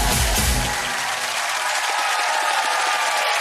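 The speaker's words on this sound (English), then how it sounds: "And a massive round of applause to our jury" A live studio audience claps in steady, dense applause at a Christmas entertainment show, loud and continuous throughout, with a brief low rumble at the start and no talking over it.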